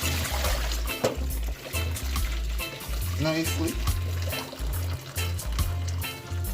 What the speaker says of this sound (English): so let's throw off the water